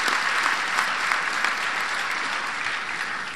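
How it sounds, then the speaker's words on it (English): A convention audience of union members applauds Ray LaHood, transportation secretary, with steady dense clapping that holds at a constant loud level throughout. "a big round of applause."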